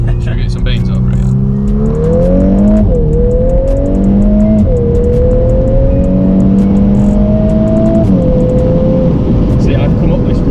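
A VW Golf R Mk8 accelerates hard through the gears, its engine note climbing loud and close with clear upshifts, under steady road and cabin noise.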